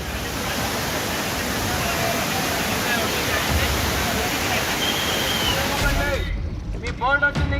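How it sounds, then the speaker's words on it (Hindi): Waterfalls pour down the mountains at Lonavala, Pune, Maharashtra, after heavy continuous rain, making a loud, steady roar that cuts off near the end, followed by a few brief sounds. "और लगातार बारिश से पहाड़ों से झरने फूट पड़े हैं महाराष्ट्र के पुणे के लोनावाला में।"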